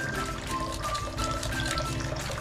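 Tap water runs in a steady, continuous stream while fish is scaled with a spoon for escabeche, the flow fairly weak, close by and filling the whole clip with a hissing, splashing wash.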